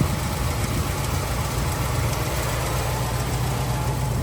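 A 1970 Chevy C10 pickup engine idles steadily at close range, with a low, even rumble and a continuous rattling roar. The level stays constant throughout and no one speaks.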